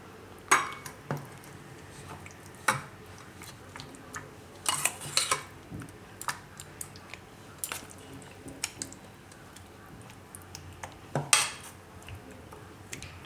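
Utensils clink and scrape against dishes while mixed veg makhana raita is spooned into a bowl, sharp separate chinks scattered irregularly over a quiet kitchen background.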